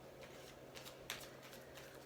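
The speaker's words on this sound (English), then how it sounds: "I like to give them a little bit more of a shuffle" Tarot cards are given a soft, faint shuffle, a quiet continuous rustle with one brief sharper flick, over a low steady background hum.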